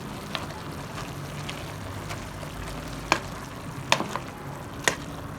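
Green beans stirred with olive oil in a pot, a steady soft sizzling hiss broken by a few sharp spoon clinks against the pot toward the end, with no voices.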